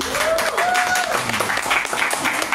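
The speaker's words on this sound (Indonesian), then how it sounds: "Tepuk tangan dong." Audience applause for a traditional bamboo music group at a poetry book launch, a steady wash of clapping filling the room while faint tonal sounds and a few voices linger underneath.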